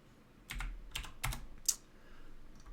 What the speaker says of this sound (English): Oh, I got to type Telnet, don't I?